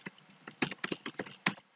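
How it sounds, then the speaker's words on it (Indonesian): Fingers type on a computer keyboard, a quick irregular string of crisp key clicks up close, ending with a slightly louder final tap before quiet. "Diketik saja tahun pelajaran"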